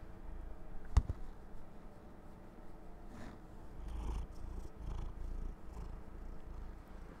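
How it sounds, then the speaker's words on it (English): Soft, rhythmic cat purring, close and low, rising and falling with each breath, with a sharp tap early on. "He's purring."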